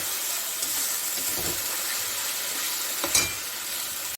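Spice masala with turmeric fries in oil with a continuous close sizzle and hiss, punctuated by a few scraping stirs.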